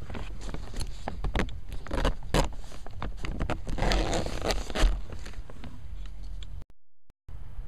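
A zipper on a garden row cover cloche is pulled along in a rapid series of close scratchy ticks and rasps, followed by brief quiet.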